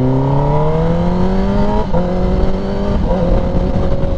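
Kawasaki Ninja ZX-10R KRT Edition engine pulling hard on a road ride, its loud rising whine climbing through the revs with brief dips at quickshifter gear changes, close and steady with no talking.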